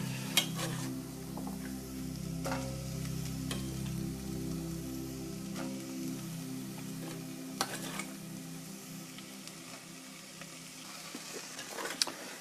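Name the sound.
onions and carrots sweating in a pan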